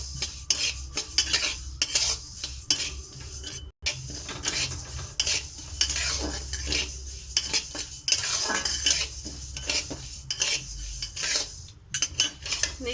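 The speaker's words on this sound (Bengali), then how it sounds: "একইভাবে সবকটি চাল আমি ভেজে নিচ্ছি" Rice dry-roasts in a pan while a utensil stirs and scrapes it continuously. The rasping and rattling are close and busy, with faint metallic clinks throughout.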